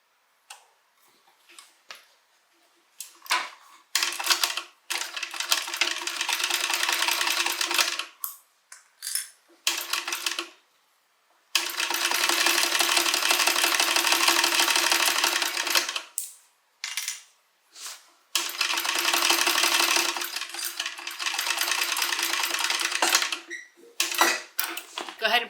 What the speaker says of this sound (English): And then we're going to stitch